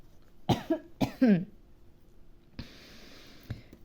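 A person coughs sharply three times in quick succession at close range, the last cough a little rougher and longer, followed by quiet background hiss with a couple of faint clicks.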